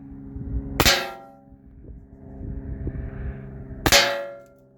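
Two loud, sharp metallic clangs from Byrna SD rounds striking an aluminum panel, spaced about three seconds apart, each ringing briefly before fading into low background hum.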